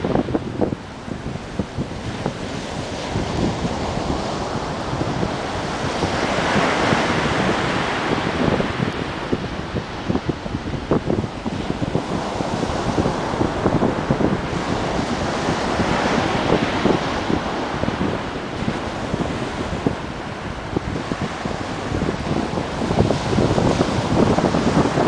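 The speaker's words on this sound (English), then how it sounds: "Waves are coming in pretty good today, I think." Ocean surf rolls and breaks continuously on a Florida beach under gusty wind, a dense, loud wash of water with wind buffeting the microphone throughout and no voices.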